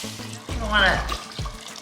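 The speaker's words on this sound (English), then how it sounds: "And I'm going to add about 6 cups of water." Water pours into a pot of carrot ginger soup with cilantro, a short gurgling splash whose pitch rises as it fills, heard close up for about a second.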